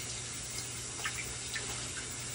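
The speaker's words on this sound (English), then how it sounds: "Now with my rice, what I do is I rinse." Warm tap water runs steadily over rice being rinsed, a soft continuous broadband wash with a few faint splashes and drips over a low background hum.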